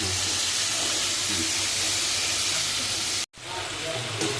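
Crab pieces frying in hot oil make a loud, continuous hiss and crackle that cuts out briefly near the end, then resumes.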